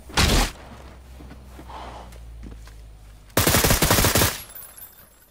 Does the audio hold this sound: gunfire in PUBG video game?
yes